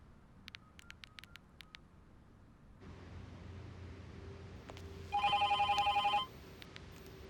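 A telephone rings in a single loud burst of rapid trilling pulses lasting about a second, following soft clicks and patter in a quiet indoor scene of a Hindi-dubbed Hollywood film.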